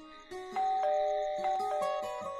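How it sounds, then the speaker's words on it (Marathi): A melodic electronic doorbell chimes several tones in quick succession, clear and close in a quiet home, with no one speaking. "कोण अशी बेल वाजवते?"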